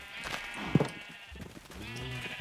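Sheep on a Minecraft farm bleat in a few short cries, one louder and nearer than the rest, over a soft game background.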